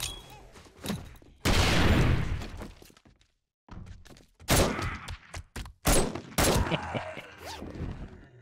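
A grenade blast in 7 Days To Die, one loud burst of noise and debris, then sharp thuds, impacts and crashes in quick succession with short gaps between them.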